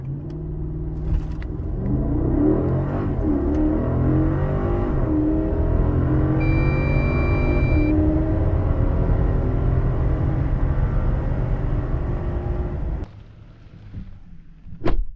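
A Mercedes-Maybach GLS 600 with a 4.0 V8 weighing 2,750 kg launches hard from a standstill, its engine roaring loudly and rising through the gears with a brief beep midway, then dropping to a quiet cabin hum.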